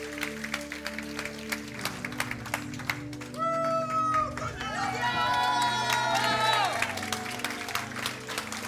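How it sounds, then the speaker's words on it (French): A church congregation applauding at a baptism service, a steady wash of clapping from the crowd mixed with murmurs and a few raised voices, rising slightly in the middle. "On peut les applaudir"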